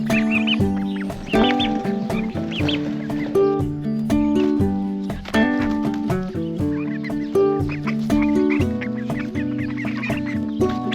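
A flock of around seventeen rainbow-mix chickens on pasture clucks and squawks steadily and close by, with overlapping calls layered through the whole stretch and no voices.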